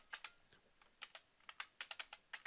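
Typing on a computer keyboard, a quick run of crisp, close key clicks in uneven bursts with short pauses, heard alone with no talk.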